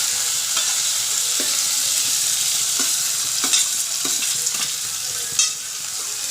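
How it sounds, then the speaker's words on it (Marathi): Garlic fries with onion and chilli in a kadai for egg bhurji, a constant close sizzle broken by several soft scraping stirs of the spoon, with no voices. "तर बुर्जीसाठी लसूण कढईमध्ये टाकलेला आहे आता कांदा मिरची कोथिंबीर हे सुद्धा टाकलं जाईल"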